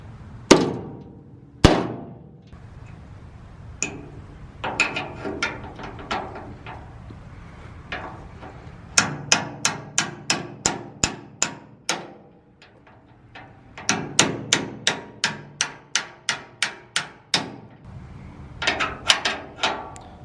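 Metal hammer strikes driving a pin into a dump trailer tailgate, sharp ringing blows in several quick rhythmic bursts separated by pauses, close and clear.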